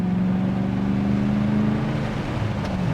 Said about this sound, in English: Perfect like daily driver exhaust.